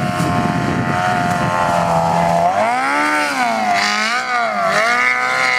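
A Yamaha RX1 snowmobile engine revving in deep powder snow, a loud close droning whine that rises and falls in pitch several times as the throttle changes.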